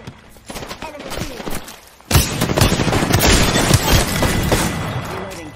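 Video game gunfire, scattered shots at first, then a loud sustained fusillade of rapid overlapping shots and thuds, with game voice callouts mixed in.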